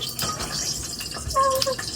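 Water is poured into a cooking pot of radishes to boil them, a brief splashing, gurgling pour that is close and fairly loud for about two seconds.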